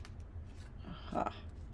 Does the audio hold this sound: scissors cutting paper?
yes